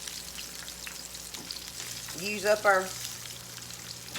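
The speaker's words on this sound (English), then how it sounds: "So I'm just going to keep frying and keep loading" Battered shrimp fry in hot oil with a continuous crackling sizzle, while a voice talks briefly over it partway through.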